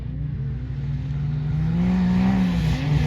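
A Yamaha YXZ UTV racing through sand dunes at a desert race, a loud steady engine roar climbing in pitch as it accelerates close by.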